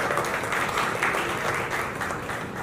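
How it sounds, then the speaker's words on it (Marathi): An audience applauding at a Marathi film trailer launch, dense continuous clapping from many hands filling the room at a steady level. "एकदा स्वागत करतो, जोरदार टाळ्या"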